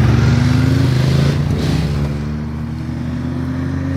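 A nearby motorcycle engine runs loudly with a steady hum that rises slightly in pitch, then settles back to a lower idle.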